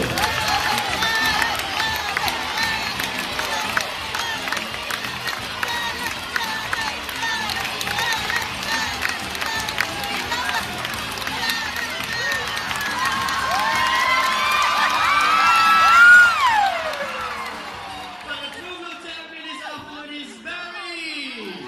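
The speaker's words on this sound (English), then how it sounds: "I think you need to cheer louder for the birds" Crowd cheering and shouting, children's voices among them, during a bird race at a bird show. The noise stays steady, swells toward a loud peak, then thins as a few voices and whoops trail off.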